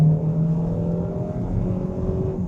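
A Hyundai Tucson engine drones under throttle, a loud, steady, close hum with held tones and little change in pitch across the short stretch, with no talking.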